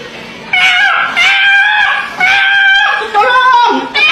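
A voice imitates a squawking, distressed chicken in four strained, high-pitched bursts, loud and close.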